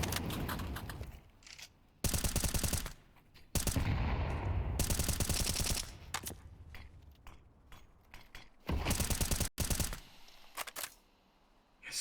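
Gunfire sprays in a Counter-Strike match, with several loud, sharp bursts of rapid shots broken by short quiet gaps and faint mechanical clicks between volleys.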